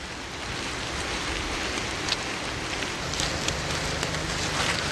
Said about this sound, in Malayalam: നല്ല മഴയാണ്, നല്ല അടിപൊളി മഴയാണ്.